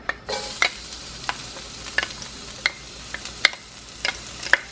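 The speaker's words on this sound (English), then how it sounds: "I'm going to be just adding sesame oil to a hot wok, and I'm adding my garlic." Garlic sizzles in sesame oil in a hot wok, a steady close frying hiss broken by repeated sharp scrapes and clicks of stirring.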